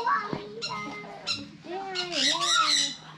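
At a farm in Chanthaburi, a bird gives loud, harsh, close squawks in several rising and falling bursts, with people talking nearby.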